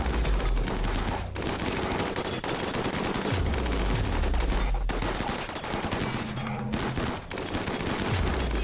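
Sustained automatic gunfire and rapid shots in the video game Rimworld rattle through dense, layered bursts with booming low thuds, continuous and loud over a battle with no voices.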